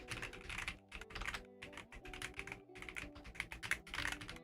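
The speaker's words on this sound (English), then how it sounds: "this is actually quite a nice keyboard. It's clicky." Clicky keys on a Glove80 split keyboard are typed in close, crisp bursts of rapid clacks, with short pauses between runs and no talk.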